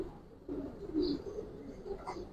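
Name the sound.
Giribaz pigeon cooing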